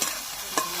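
Local prawns frying in hot oil make a short, continuous close sizzle with one brief stirring scrape near the end.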